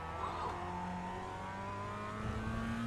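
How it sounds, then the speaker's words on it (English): Club100 Mazda MX-5 race car in iRacing pulling out of the pits at Spa, a steady engine drone with slowly shifting pitch, moderately loud and continuous. "And there's a car leaving the pits."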